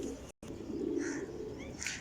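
Teddy pigeons coo softly among several birds, with low murmuring tones and a few brighter chirps over a steady background, broken by a brief dropout near the start.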